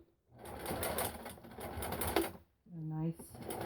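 A sewing machine runs a straight stitch along a shirt cuff, a fast continuous whirring chatter that stops briefly and starts again. A voice is heard speaking over the stitching.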